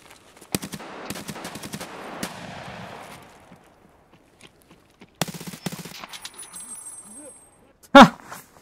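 Bursts of automatic fire from a Stechkin APS pistol in a video game: several rapid rattling volleys with short pauses, then a loud close burst near the end, with some faint talk at times.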